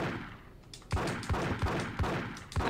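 Gunfire in GTA Chinatown Wars, a run of five or six sharp shots at roughly half-second intervals, fairly close and clear with no talk over them.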